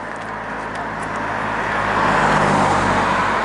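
Road traffic near a school passes by outside a sound-dampening wall, a steady car hum swelling louder toward the end as a vehicle approaches, with no talk.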